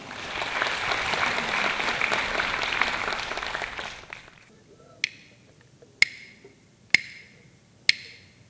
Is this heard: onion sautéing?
no